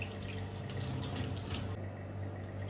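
Steady running tap water splashing over dusty leaves being rinsed in a sink, a continuous close hiss and patter with small shifts as the leaves move under the stream.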